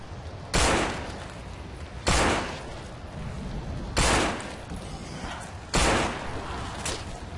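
Gunfire in the zombie game No More Room in Hell, four loud separate shots about every second and a half, each a sharp crack with a short tail, over a low steady background.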